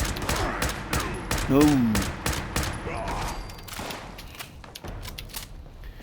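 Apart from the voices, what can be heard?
gunfire from a gun in the video game Fallout 76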